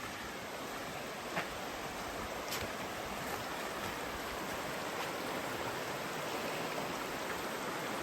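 A river runs high and swollen after a night of rain, giving a steady, dense rushing roar from start to finish with no voices.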